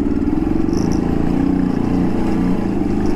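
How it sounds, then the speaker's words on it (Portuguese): A warmed-up motorcycle engine idles loud and close with a steady, slightly rough pulsing rumble throughout, no other sounds. "Motor aquecido da nossa companheira."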